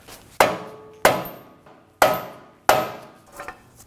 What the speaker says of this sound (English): Using the rubber mallet, gently tap the bottom.